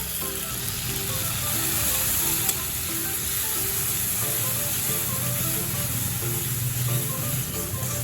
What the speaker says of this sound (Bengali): সমস্ত মশলা এবার একসাথে ভালো করে ভাজবো।